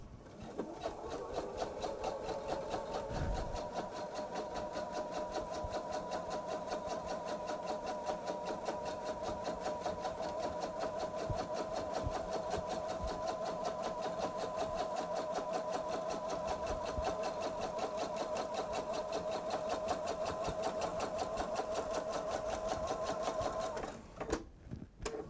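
Sewing machine stitching a jelly roll bag, holding one long, continuous, even run with a rapid regular chatter, quiet but close, ending abruptly.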